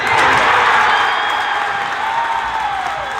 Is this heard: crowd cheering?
yes